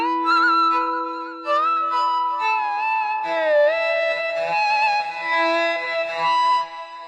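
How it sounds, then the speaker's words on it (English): Outersect Modeler synthesizer playing physically modeled acoustic instrument tones, with sustained harmonic notes and gliding pitch changes across a steady, close, continuous passage, with no voices. "These sounds are created by mathematical models of acoustic and electroacoustic instruments."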